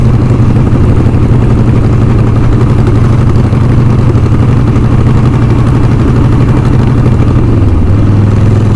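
A custom Harley-Davidson Sportster bobber motorcycle running nearly flat out, heard as a loud, steady engine drone with heavy wind rush and a slight drop in pitch near the end.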